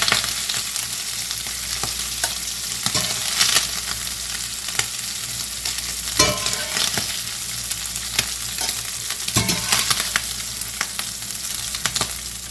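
Sausage browns in a hot pan before going into a soup pot, giving a continuous close sizzle broken by sharp scrapes and clatters as the pieces are stirred and moved.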